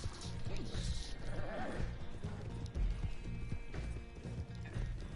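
A horse in the video game Red Dead Online whinnies and clip-clops amid shifting mechanical game sounds, with some voices in the background.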